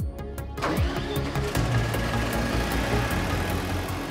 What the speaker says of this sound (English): Start the generator engine